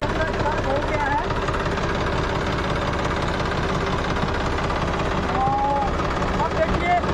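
A tractor engine runs steadily as the tractor drives forward onto luggage during a trolley bag weight test, a continuous loud mechanical drone filling the whole stretch.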